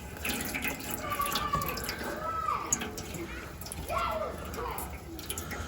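Engine oil drains from the oil pan of a 2015 Dodge Durango, a continuous splattering trickle of liquid running under a man's speech.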